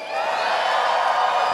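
Audience at a furry convention dance competition, Anthrocon 2018, cheers and whoops in a bright, sustained roar from a large crowd across a short burst.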